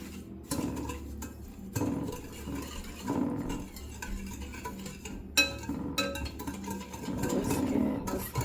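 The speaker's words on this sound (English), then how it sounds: "now I'm gonna whisk this together" Whisk scraping and clinking against a bowl while mixing lemon loaf cake batter, in irregular strokes with brief pauses, close and fairly quiet with no talking.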